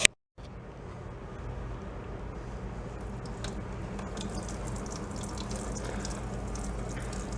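Water draining out of a junk air compressor's tank, a steady hissing trickle that begins abruptly after a brief silence and runs on evenly at moderate, close level.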